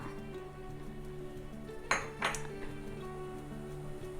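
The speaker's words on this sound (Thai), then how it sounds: "จ้าตั้งหม้อกันเนาะ" A cooking pot is set down for boiling sauce, giving two quick metallic clinks close by against a steady low kitchen hum.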